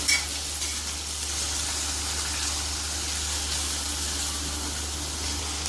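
Green chillies and other ingredients fry in hot oil in a pan for village-style country chicken curry, a steady, close sizzle hissing without pause and with no talking.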